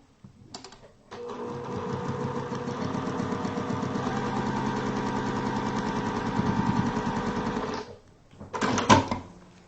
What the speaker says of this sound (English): I'm going to go ahead and take this to my machine and stitch it.